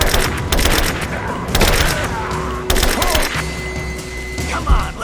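Rapid volleys of gunfire and heavy thuds ring out during a firefight in Rise of the Tomb Raider, with bursts clustered near and loud, and bits of game voice chatter mixed underneath.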